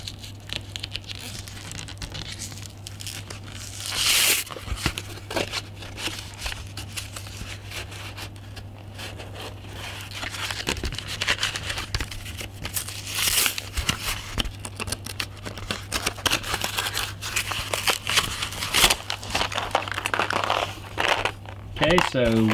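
Packaging for a Brainerd 64174 triple switch wall plate in brushed satin nickel is torn and handled during unboxing, with irregular crinkling, tearing and rustling bursts growing busier toward the end under a person talking.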